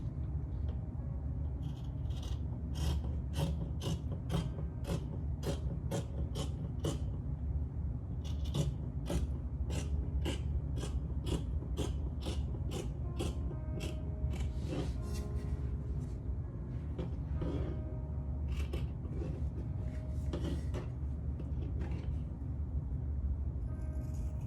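Scissors cut out fabric for a bubu kaftan dress in a steady run of short, crisp snips, pausing briefly around the middle before continuing, close and fairly loud over a constant low rumble.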